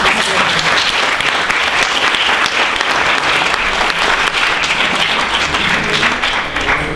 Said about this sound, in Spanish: damos un aplauso a la conferencia